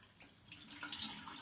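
Water runs steadily from a tap to rinse off an Aztec clay mask, a soft continuous hiss and splash at low volume without any talk.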